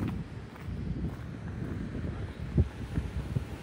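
Gusty wind blows outdoors while walking through a town on a blustery morning, a steady low rumble buffeting the microphone with a few sharper gusts near the end.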